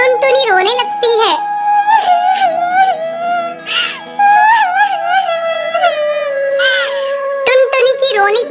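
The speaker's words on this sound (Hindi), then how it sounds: "टुनटुनी की रोने की आवाज सुनकर रानी चिड़िया वहाँ आती है।" A little cartoon bird crying in an animated children's story, loud, drawn-out wailing with sobbing pitch swoops and short catches of breath, continuing throughout.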